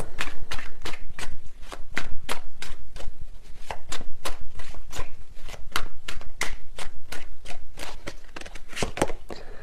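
Tarot cards being shuffled by hand, a fast run of crisp, closely spaced riffling slaps repeating steadily for several seconds, close and fairly loud with no talk.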